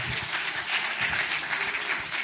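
An audience at a French innovation award ceremony applauds a winner with a steady, even wash of many hands clapping together, fairly muffled and heard from a distance without clear single claps.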